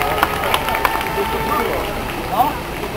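A crowd at a Stal Gorzów speedway team presentation gives continuous applause and cheering, a dense wash of clapping filling the space with a few sharper claps standing out.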